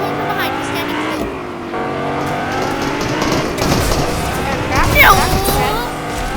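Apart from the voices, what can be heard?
cars driving in a video game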